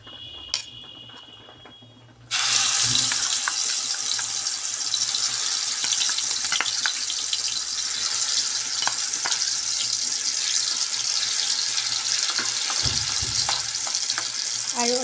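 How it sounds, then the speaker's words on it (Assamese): Onion paste sizzles loudly in a hot oiled pan for a paneer, potato and pea curry, a quiet start giving way to a sudden, sustained frying hiss with occasional stirring scrapes. "অতি কমেও 2-3 মিনিটমান মই এইদৰে ভাজি ল'ম"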